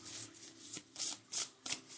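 Tarot cards being shuffled in several quick riffling bursts, crisp and close, with short pauses between them and no talk.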